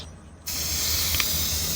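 A car odor-eliminating aerosol spray can is locked on to release continuously, starting abruptly and then hissing in a loud, steady, close jet with no talking.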